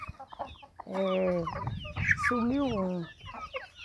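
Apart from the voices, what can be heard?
chickens clucking in a chicken coop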